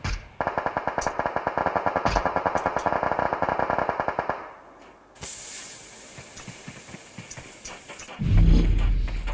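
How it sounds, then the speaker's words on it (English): Automatic gunfire in PUBG during a duo scrim match, a rapid rattling burst of shots for about four seconds, then hissing and a dull thump with scattered distant shots. "So shots are being fired towards Avery"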